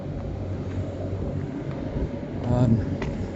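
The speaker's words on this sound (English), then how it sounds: "We don't need to hear that engine running" A steady low engine rumble runs throughout, with a slight swell in loudness near the end.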